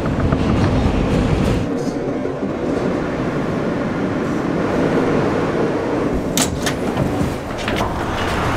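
A New York subway train rumbles and clatters steadily on the rails between Queensboro Plaza and Lexington Avenue/59th Street, with metallic squeals and clicks toward the end, close and loud, no speech.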